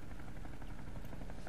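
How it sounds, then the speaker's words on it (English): A helicopter in the video game Dead Rising flies overhead, a steady rapid rotor chop at moderate level, heard alone. "Frank, it's a helicopter."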